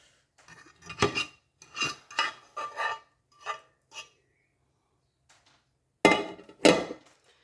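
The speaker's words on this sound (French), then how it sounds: "Là, il y a une aubergine et un oignon revenu. Donc, je vais mélanger tout ça." A utensil scraping and knocking against a pan while fried aubergine and onion are stirred together, a string of separate metallic clinks and scrapes, close and clear, with a louder pair at the end and no talk.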